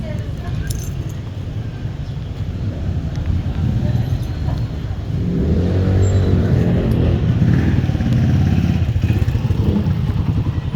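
A motorcycle engine idles and putters close by, its low rumble growing louder midway, with a faint jingling clatter on top.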